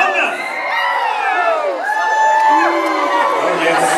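An audience wearing yellow crowns at Medieval Times Toronto cheers loudly, with a mix of high, sliding whoops and shouts from adults and children rising and falling across the arena.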